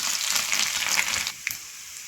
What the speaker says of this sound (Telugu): ఆయిల్ అయితే వేడెక్కింది ఒక స్పూన్ అయితే జీలకర్ర వాళ్ళు వేస్తున్నాం